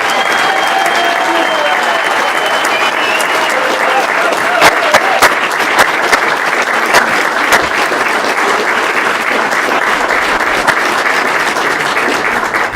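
A full room applauds state 6A softball champions at a school board meeting, a dense and steady roar of many hands clapping, loud and close, sustained without pause.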